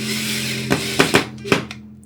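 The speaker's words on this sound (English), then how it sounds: "giving it a nice firm push with your thumb down into the wood to when it's in there pretty solidly and you hear the wood cracking a little bit" A power drill whirs steadily as it drives screws into wood to mount a wall coat hook shelf, with several sharp clicks and knocks as the screw seats, then the motor stops.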